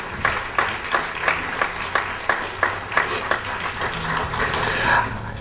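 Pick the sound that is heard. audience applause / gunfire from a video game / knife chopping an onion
audience applause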